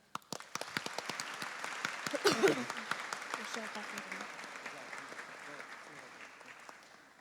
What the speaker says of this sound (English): let's please take a moment to thank our parents with a round of applause